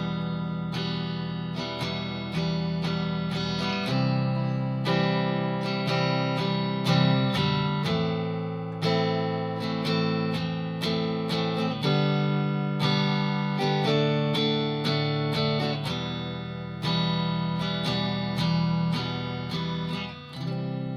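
An acoustic-style guitar strum pattern played at 66 beats per minute: steady, evenly spaced strokes ring out as full chords throughout, loud and close, with no voice over it.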